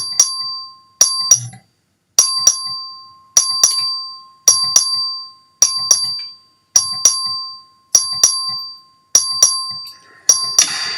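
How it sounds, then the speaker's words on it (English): A bell rings in about ten evenly spaced, sharp dings to call a record vote in the Texas House chamber, each ringing out briefly before the next, loud and close with no talk. "Clerk, ring the bell."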